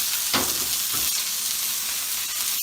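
Peppers and onions frying in a pan for a shrimp dish, a steady loud sizzle with a couple of brief crackling bursts near the start.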